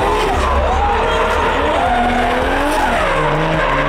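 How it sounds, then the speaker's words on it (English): A Toyota Supra drifts with loud, continuous tire squeal and skidding over a roaring engine whose pitch rises and falls, heard close up at a car show. "My man drifted a Supra."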